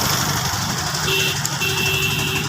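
Engine of a river trawler boat in rural Bangladesh, a steady droning hum with a low throb continuing evenly throughout, moderately loud and unbroken, with no talk over it.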